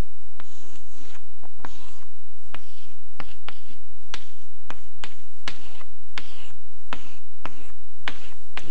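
Chalk or marker strikes a board during a university lecture, making crisp, evenly spaced taps and short scratches over roughly nine seconds, with no talking.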